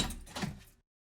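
An indoor door being opened, a short, muffled scraping and knocking that fades within a second into silence.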